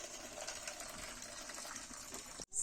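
Water being poured off boiled malewa in a saucepan in an African village kitchen in Eastern Uganda: a steady, close rushing gush that runs continuously, then cuts off abruptly near the end.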